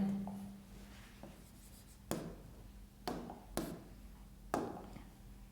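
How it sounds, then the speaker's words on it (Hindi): Chalk or marker writes on a board during a physics lecture, heard as a soft scratching stroke followed by several sharp taps and short strokes spaced irregularly, fairly faint and close in a quiet room. "तो मैं यहां पे लिख देता हूं"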